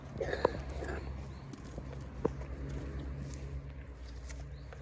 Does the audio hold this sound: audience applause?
no